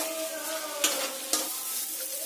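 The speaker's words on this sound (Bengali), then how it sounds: "এবার ম্যাশ করে রাখা আলুগুলো এতে দিয়ে দেব ভালো করে আলুর সঙ্গে সব ভালো করে মশলাগুলো কষিয়ে নিতে হবে" Mashed boiled potatoes and spices stir-fry in a pan with a steady, close sizzle, broken by two quick scraping strokes of a spatula. Nobody speaks.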